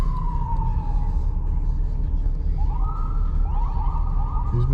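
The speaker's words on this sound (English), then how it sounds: "Get the sirens in the background." Fire department siren wailing over steady road and engine rumble, its tone sliding down, then rising and warbling again, fairly close and loud throughout.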